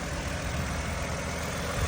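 The V6 engine of a 2015 Toyota Highlander Limited idles in a steady, even low hum with no talk over it.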